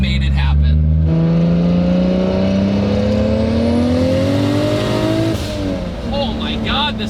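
A 700 hp Saturn Sky with a Borg-Warner single turbo on a 2JZ engine accelerates hard, its loud rising engine note climbing steadily before a brief drop, heard close from inside the car.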